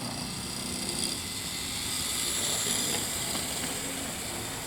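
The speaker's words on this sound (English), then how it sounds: "That noise you hear is the Code 83 track" A model train runs along Code 83 track, giving a steady, even whirring rumble with a hissy edge that holds at the same level throughout, with no voices.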